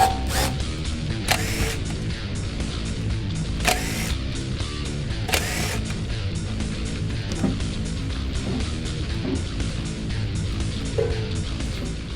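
Bolts come out of the oil pan on a Ford Performance 306 cubic inch crate engine, with close, repeated metallic clicks and ratcheting in short bursts, several sharp clanks standing out along the way.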